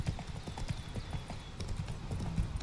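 A horse galloping in Witcher 3, hooves pounding in a steady rapid rhythm throughout, fairly close and moderately loud with faint ambient game sound behind.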